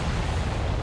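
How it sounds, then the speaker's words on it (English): A dense, sustained low rumble from an explosion in the flight combat game Ace Combat 7, loud and broadband, filling the short moment with no voices. "What was that explosion?"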